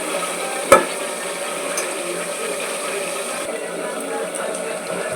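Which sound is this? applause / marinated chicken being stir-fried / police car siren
marinated chicken being stir-fried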